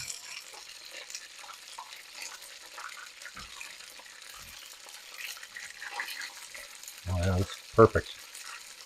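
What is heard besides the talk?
snow goose meat frying and being stirred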